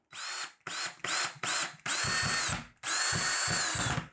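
A handheld power drill drives a screw into a wall in several short bursts and then two longer runs, whining loudly and close, with brief pauses between the trigger pulls.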